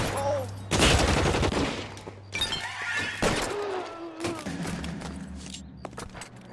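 Shotgun blasts from the 1940s detective game L.A. Noire boom out in loud, separate bursts mixed with shattering crashes and rapid gunfire, and game sounds run between the shots.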